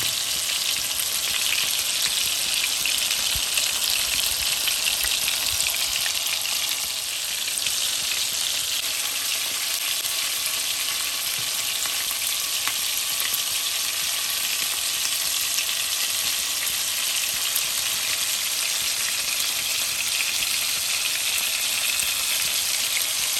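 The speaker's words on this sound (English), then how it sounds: "my cast iron is really nice and hot, so it's cooking them much faster" Peshawari chapli kebabs frying in a hot cast iron pan, a loud, constant crackling sizzle held close for the whole stretch, with only a brief dip partway through.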